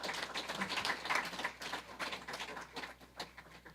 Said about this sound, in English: Let's give these students a nice big round of applause.